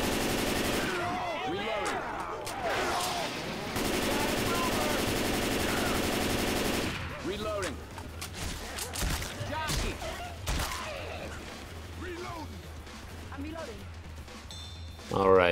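Dense automatic gunfire from the Left 4 Dead zombie game on the Parish bridge escape, long continuous bursts for the first seven seconds, then sparser shots and impacts under game noise and a talking voice.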